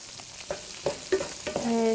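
Sliced zucchini and capsicum tossed in a hot frying pan for a stir fry, with several soft scraping shakes and light sizzling bursts over a quiet, steady background.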